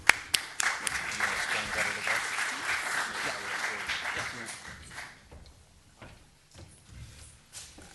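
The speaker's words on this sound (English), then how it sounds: "Please give these gentlemen a round of applause." An audience at a talk on integrated water planning for New Orleans applauds the speakers, a burst of dense clapping that holds for about four seconds and then thins into scattered claps and room noise.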